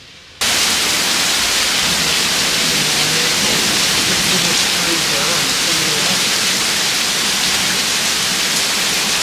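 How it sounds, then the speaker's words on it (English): Heavy storm rain falls in dense sheets onto a porch, a loud, constant roaring hiss that starts abruptly and fills the whole stretch. "It's just sheets of rain."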